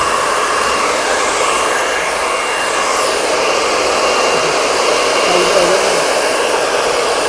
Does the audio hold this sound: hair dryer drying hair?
yes